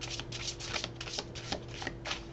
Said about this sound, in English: So we're just going to give this a quick shuffle.